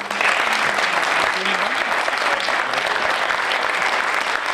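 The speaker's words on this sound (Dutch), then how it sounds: "een groot applaus willen vragen voor de eerste schrijver" A packed hall gives a big round of applause for writer Najib Amhali at a Sinterklaas book presentation, continuous and full, with dense clapping holding steady from start to finish and faint voices underneath.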